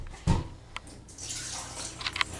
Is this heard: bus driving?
no